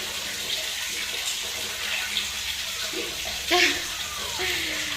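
Water pours and splashes steadily over a child during a bath at home, a continuous running-tap wash with a brief louder gush near the end, while someone speaks intermittently over it.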